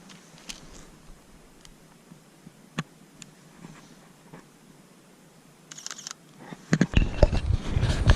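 A Sony A7R2 camera fires its shutter with silent mode off, giving a few faint, crisp clicks over quiet room tone before a loud burst of handling noise.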